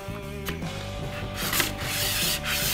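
An arrow shaft being squared on a FlightDeck sanding platform, close scraping and rubbing strokes with a few sharper rasps, alongside a faint background hum.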